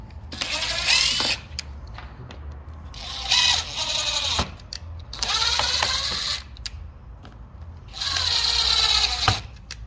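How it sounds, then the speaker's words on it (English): A power drill pre-drills holes for Kemimoto fender flares on a 2023 Can-Am X3 Turbo RR, whining in four separate bursts of a few seconds each with short quiet gaps between. "We're just pre-drilling it."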